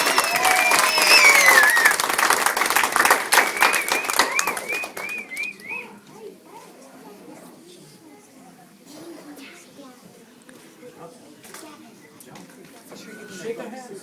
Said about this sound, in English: A big round of applause for our scouts